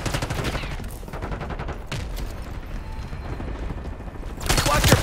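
Gunfire in the video game Call of Duty Black Ops 6 crackles in steady rapid bursts throughout, with a louder, denser volley erupting near the end amid busy combat noise.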